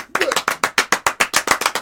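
A small group claps in a quick, even rhythm, about a dozen sharp, loud, close claps in under two seconds with no talk over them.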